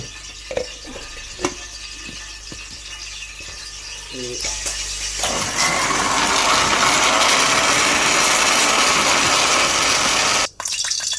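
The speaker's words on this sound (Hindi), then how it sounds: "अब मैं ये सारा कुछ कर दूँगी ग्राइंडर" A kitchen mixer grinder blending black pepper with yogurt: a few clicks and handling knocks, then several seconds of loud, steady whirring that cuts off abruptly.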